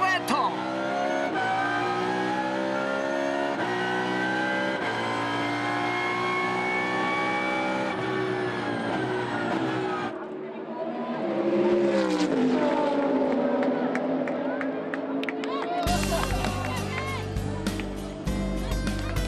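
Super GT race cars power out of the final corner onto the last straight at Motegi, loud high-revving engines sweeping past with gear changes, then crowd and music noise at a race-ending finish.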